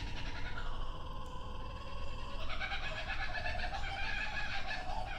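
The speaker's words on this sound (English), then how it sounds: "I'm going to go before these birds drive me crazy." Birds call repeatedly nearby outdoors, drawn-out wailing, almost cat-like cries layered over one another above a constant background hiss.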